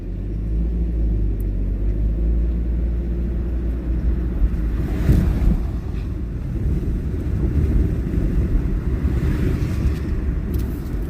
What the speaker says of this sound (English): here's that gusty wind is coming up